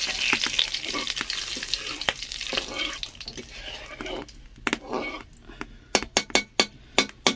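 Bay leaf and spices crackling in hot oil in a home kitchen, a steady loud sizzle that thins out toward the end into a run of sharp clatters and taps from the pan.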